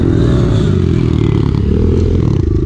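A pit bike engine roars loudly and continuously at close range, revving hard with rough mechanical clatter throughout.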